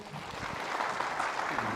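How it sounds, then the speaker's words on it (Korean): A short burst of audience applause welcoming a National Assembly member to an author's book-launch talk in Bucheon: scattered, fairly soft clapping from a seated crowd, lasting under two seconds. "큰 박수 주십시오"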